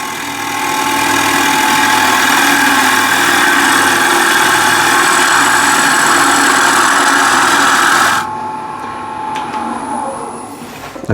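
A sharpening grinder fitted with a 180 grit CBN wheel runs with a loud, steady motor hum and whir for about eight seconds, then cuts off abruptly and spins down quietly.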